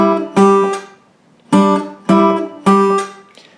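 A guitar plucks a riff, four bright, ringing note clusters struck in a loose rhythm, each decaying before the next, close and alone.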